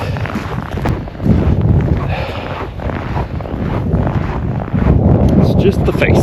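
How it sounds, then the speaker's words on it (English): Strong wind gusts roar steadily over an open lake at a northern Minnesota state park in cold weather, buffeting the microphone with low rumbling blasts that swell louder near the end; a person talks over it. "Look at this wind whipping over here."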